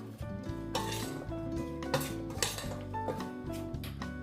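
Seasoned onions with squeezed lemon being mixed in a bowl, with steady clinking and scraping of a utensil against the dish and a few sharper knocks, close and continuous.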